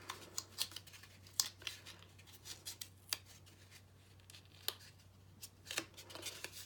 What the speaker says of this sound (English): And now I'm going to fold the corners in, and I'm going to fold them in tight